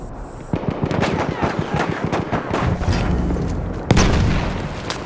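Battlefield 1 combat in a game match: a loud sharp blast near the four-second mark stands out above continuous gunfire and booming battle noise, with rapid shots and impacts running throughout.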